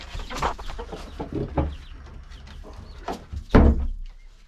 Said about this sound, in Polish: O, kury tutaj siedzą.